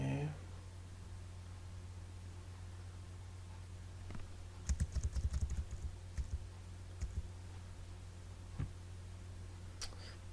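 Keyboard keys are tapped in short irregular bursts while programming in GW-BASIC, fairly close and quiet over a steady low hum, with a few isolated key presses and a voice speaking at times.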